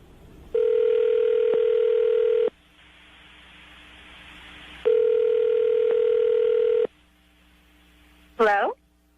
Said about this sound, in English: we're going to dial the phone number right now, get her on the phone